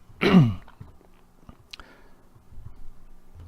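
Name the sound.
throat clearing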